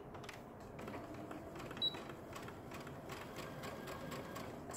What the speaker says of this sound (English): you're going to sew with a narrow 1/4 inch